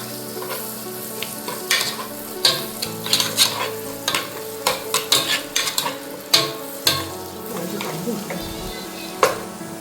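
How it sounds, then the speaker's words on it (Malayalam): Garlic, onion and carrot sizzle and fry in a pan for mushroom soup, with steady crackling broken by frequent clattering stirs and utensil knocks against the pan, close and fairly loud throughout. "നമ്മൾ ആദ്യമായിട്ട് വെളുത്തുള്ളി ഇട്ട് കൊടുക്കുക അത് നന്നായിട്ടൊന്ന് മുരിഞ്ഞിട്ട് നമുക്ക് സവാളയും ക്യാരറ്റും ഇട്ടു"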